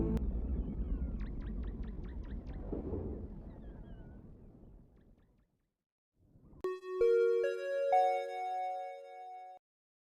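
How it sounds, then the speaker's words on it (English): A bright bell-like chime rings out after a stretch of low rumbling noise, its tones layered and sustained for a few seconds before stopping. "Now that the bell has rung,"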